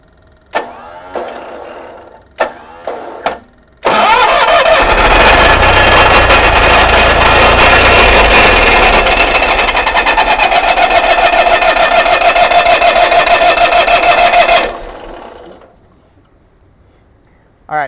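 The generator engine on a GMC motorhome cranks after a few clicks and starts, roaring loud and steady for about eleven seconds before cutting off abruptly, heard close up.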